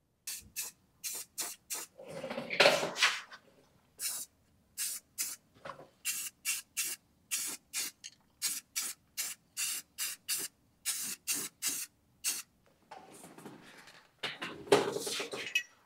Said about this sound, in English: I'm going to just spray a little bit of paint on here and just to hide this kind of stuff